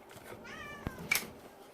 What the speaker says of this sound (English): My cat just got interested.